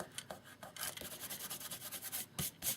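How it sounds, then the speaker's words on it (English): Fingertip rubbing off leftover bits of glue on a handmade Valentine's easel card, a soft dry scuffing repeated in quick close strokes, quiet and continuous with a few brief sharper rasps. "rub off any extra little bits of glue that's visible"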